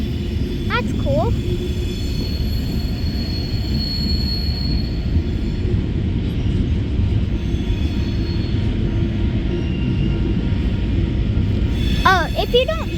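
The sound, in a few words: train starting to move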